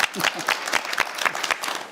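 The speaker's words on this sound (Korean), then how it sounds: "박수 쳐도 되지 않겠어요?" Audience applause at a Korean art association debate forum, a burst of close, fairly dense hand claps over two seconds.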